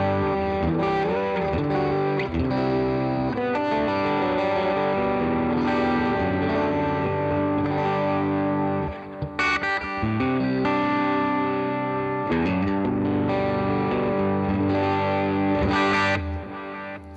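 Distorted electric guitar played through a NUX Solid Studio simulation of a Deluxe Reverb 1x12 amp, sustained chords and ringing notes carrying on continuously with brief gaps between phrases.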